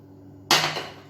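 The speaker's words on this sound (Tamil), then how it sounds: "இப்போ நான் வந்து தண்ணி கொஞ்சமாக சேர்க்குறேன்." Water splashes into a hot pot of sambar with a sudden loud hiss that sizzles on and slowly dies down.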